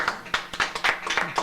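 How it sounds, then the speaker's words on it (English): A small audience at a Green Party talk claps in a short, scattered round of applause, a handful of distinct hand claps close together. "give yourselves and us a round of applause for that"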